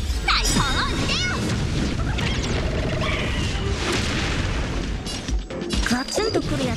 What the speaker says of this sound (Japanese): 大砲を撃てよ。